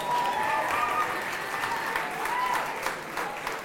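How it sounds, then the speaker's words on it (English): An audience breaks into sustained applause, thick and steady from start to finish, with faint whistles or cheers mixed into the clapping. "Can we give them a round of applause"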